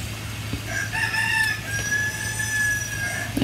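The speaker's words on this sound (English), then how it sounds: "there goes the rooster." A rooster crows in one long drawn-out call that holds and slowly fades, heard alone over a steady low hum in the background.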